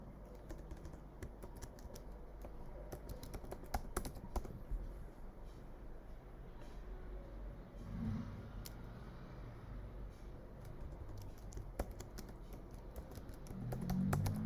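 Light clicking of a computer keyboard as a password is typed, steady faint keystrokes throughout with a low background hum.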